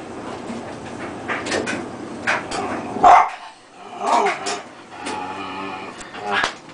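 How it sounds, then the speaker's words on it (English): A dog gives several loud barks and yelps at close range at a running clothes dryer, mixed with people talking and background noise. "every time the dryer goes off, he always barks"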